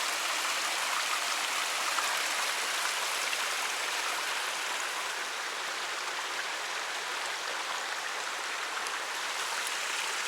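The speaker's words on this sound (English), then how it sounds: "I saw this beautiful creek here, just flowing down real nice" A creek on the Ozark Highlands Trail flowing steadily, a constant broad rushing and babbling of water, close and even throughout with no voices.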